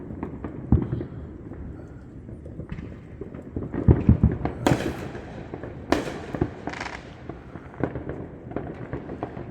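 Fireworks go off around a city in an irregular barrage of pops and booms, some sharp and close, others dull and distant, over a constant low rumble.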